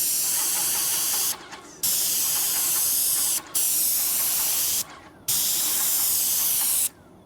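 A paint sprayer hisses steadily while coating a brick chimney, spraying in long bursts separated by short stops, loud and close.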